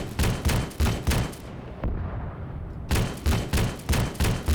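Heavy gunfire at infantry in a military video game, with about nine loud, evenly spaced booming shots close by. A brief pause mid-clip is followed by the same steady rhythm resuming.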